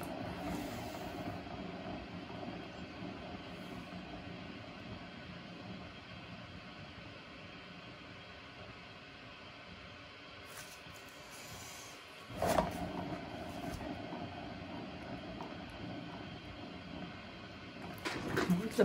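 An acrylic paint pour canvas whirls on a spinner, giving a steady mechanical whir with a low droning hum throughout, briefly louder and rougher around the middle and again near the end.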